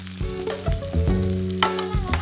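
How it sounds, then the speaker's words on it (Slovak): Beef meatballs frying in a pan give a steady, close sizzle with crackling bursts and brief stirring or turning noises, with no talk. "Guľočky sa nám krásne opekajú."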